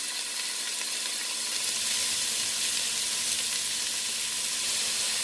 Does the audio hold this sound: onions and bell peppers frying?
yes